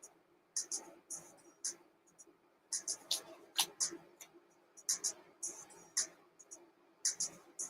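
Tarot cards being shuffled by hand in a quiet room, with soft papery riffles and flicks that come in short irregular bursts, close and fairly faint.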